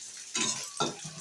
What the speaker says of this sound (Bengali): এটা শুধু পেঁয়াজ ভেজে নিলাম